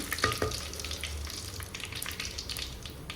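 Curry leaves frying in hot oil over a low flame for a home-style chicken curry; a busy crackling sizzle runs continuously, with a low rumble beneath and a few brisk pops near the start.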